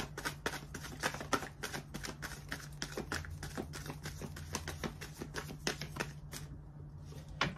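Tarot cards are shuffled close up in quick, repeated riffling flicks, a steady crisp patter of card edges with no talking.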